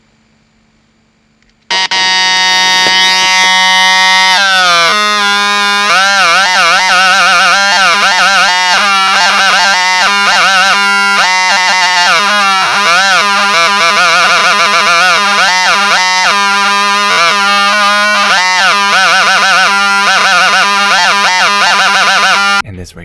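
A homemade light-dependent-resistor theremin built around a 555 timer, powered by a 9-volt battery, switches on with a loud, continuous buzzing electronic tone that warbles and shifts pitch steadily for over twenty seconds, with no talking.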